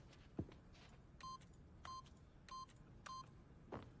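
Four keypad buttons pressed one after another to enter a PIN code in the video game The Stanley Parable, each a short, clean electronic tone, evenly spaced, fairly quiet, with a faint footstep-like thud before and after.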